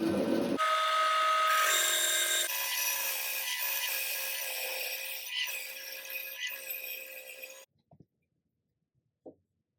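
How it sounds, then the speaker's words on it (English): A bandsaw cuts through wood for a large ladder: a loud, steady rasping whine that holds for about seven seconds, then stops abruptly, followed by a couple of faint knocks. "Now I'll cut this on the bandsaw."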